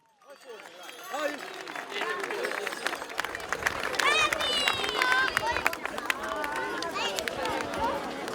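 A crowd at the 10th edition of the Carrasegare carnival in Neoneli applauds a visiting group of performers, dense clapping that swells after a quiet start, mixed with voices and chatter.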